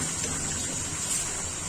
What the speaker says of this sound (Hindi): 6 कप के करीब मैंने इसके अंदर डालना है पानी